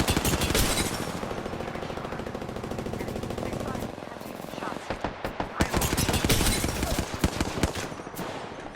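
Rapid automatic gunfire in a video game rattles in dense bursts, with bright sharp cracks through the first half, then a short lull and more scattered shots, loud and close.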